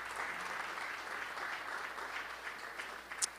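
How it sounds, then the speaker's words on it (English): Steady applause from a church audience at a service of songs, held evenly for a few seconds at moderate distance with no talking over it. "Yes, let's clap for them."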